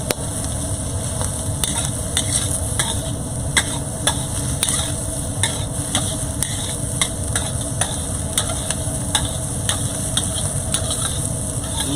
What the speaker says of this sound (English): Nice little stir fry, just really to combine.